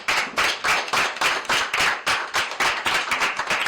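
An audience at a photography contest award ceremony in Cape Verde claps for the winners. The hand claps are close, steady and rhythmic, with no voices.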